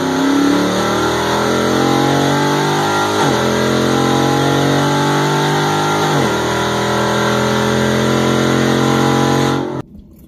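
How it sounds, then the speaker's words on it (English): A 426 Hemi-powered Ram truck pulls hard from a 40 mph roll, its engine loud and close, climbing in pitch through two quick gear shifts before abruptly cutting off near the end. "So that 426 also hits hard as hell. Look at this thing hit from a 40 roll."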